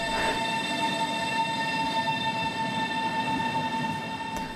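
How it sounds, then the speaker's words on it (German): A Swiss ETR 610 electric tilting train runs past steadily and loudly, its drone carrying a set of sustained tonal whines, with a faint squeal near the end and no talking. "Hier kommen die Schweizer Triebwagen vom Typ ETR 610 zum Einsatz."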